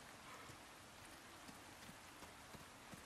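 Steady rain falls in the video game Resident Evil 4 Remake, a constant soft hiss with occasional heavier drops, heard alone and fairly quiet.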